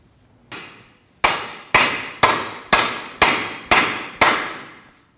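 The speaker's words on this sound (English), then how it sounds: "We're going to hammer up on this, and that'll allow the ball joint to be freed from the control arm." Seven heavy metallic hammer blows strike at a steady rhythm on a car's front suspension, freeing a lower ball joint from the control arm; each a sharp clang with a short ringing decay, close and loud.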